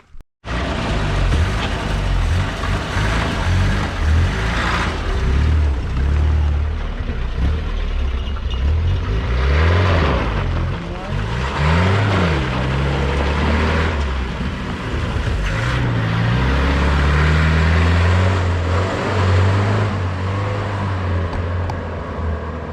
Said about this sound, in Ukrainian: Газик завівся, їде, але велика біда тут з ним. Тут мотор так тарабанить